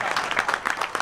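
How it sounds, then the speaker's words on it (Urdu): Brief burst of audience applause at a political welcome gathering for election candidates, dense clapping close and loud for about a second, with faint voices beneath. "آپ کی بھرپور تالیوں میں جناب ناصر چٹھا صاحب۔"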